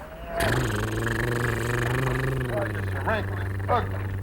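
A voice imitates a motorboat engine with a steady, buzzing lip-trill drone held for several seconds, close and fairly loud, ending with a few short vocal chirps.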